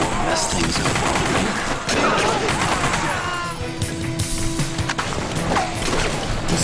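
Rapid automatic gunfire from a gun in The Punisher video game, loud and nearly continuous, with crashes and impacts mixed in and someone talking over the shooting.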